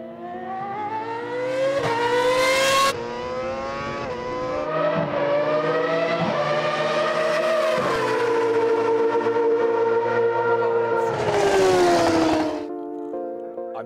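A Formula 1 car on a race track, its engine screaming loud and close with rising and falling pitch through gear changes, two sharp high bursts as it passes, with no talk over it.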